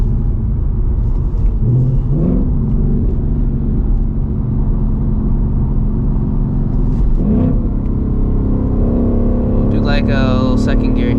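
A 500 HP 2024 Ford Mustang GT with a Coyote V8 revs in short bursts, its engine note climbing and falling over a steady cabin rumble, with a brief sharper rev near the end.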